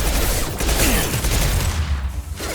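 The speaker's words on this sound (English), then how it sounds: "Concussive shot!" A Concussive Shot ability firing in Mass Effect 2, a loud concussive burst over constant dense battle noise with heavy low rumble, the action briefly easing near the end.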